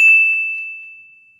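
A single bright bell ding used as a notification chime, struck once loud and close, then ringing out as a clean sustained tone that slowly fades, alone with no voices.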